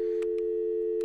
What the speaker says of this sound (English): You can hear the phone dial tone.